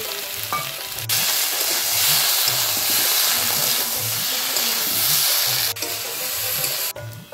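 Cumin, dried chilli, ginger and garlic pastes fry in hot oil in a pan, a steady loud sizzle and crackle with soft periodic stirring scrapes underneath, no voices.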